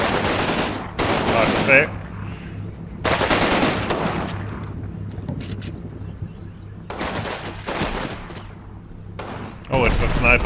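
Rapid bursts of automatic and rifle gunfire from a Combat Mission WWII Italy battle, with a sniper among the shooters, loud and sharp in several clusters, while someone talks briefly over them.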